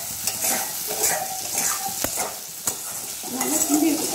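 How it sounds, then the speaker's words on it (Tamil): Potato fry being stirred in a pan, a spoon scraping and clinking against the metal amid a soft sizzle, with a few sharp taps and scrapes, heard close with no talking. "நல்லா கிண்டி வச்சுக்கோங்க"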